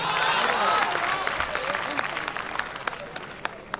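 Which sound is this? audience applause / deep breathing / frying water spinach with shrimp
audience applause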